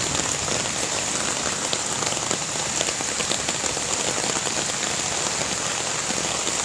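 A steady, dense roar of heavy rain falls on a flooded road in Chandra, Kaliakair, Gazipur, continuous and close with no voices.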